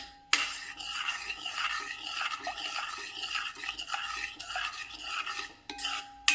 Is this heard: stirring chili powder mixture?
yes